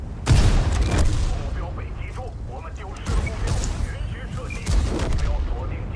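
Booming tank gunfire and impact blasts in World of Tanks, several heavy hits spread across the stretch amid steady battle rumble, while someone talks throughout.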